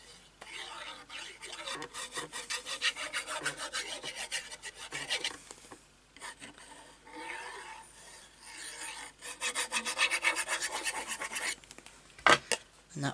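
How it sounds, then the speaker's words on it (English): Bone folder burnishing folded paper panels of a presentation file box, with repeated close, dry rasping strokes in long back-and-forth runs, a pause midway and a couple of sharp taps near the end. "giving that a good burnish"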